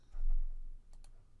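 A computer mouse clicks on a search page: two quick, sharp clicks close together, following a soft low thump.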